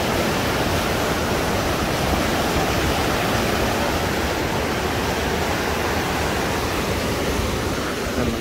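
Flash-flood water rushes through a river channel beside housing in Mecca, a dense, steady roar of churning water that stays loud and unbroken throughout, with no voices.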